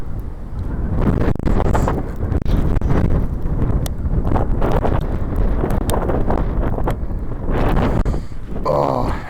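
Strong blizzard wind roars and buffets the microphone outdoors in a snow-covered park, loud and continuous for the whole span with gusty rumbling and flapping, no clear talking.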